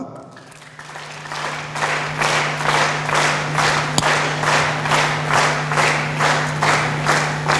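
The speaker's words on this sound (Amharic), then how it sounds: "ጭብጨባ።" A graduation ceremony audience claps steadily, the sound swelling after a brief quiet start into a dense, sustained round of applause that holds at a strong, even level with slight rhythmic pulses to the end.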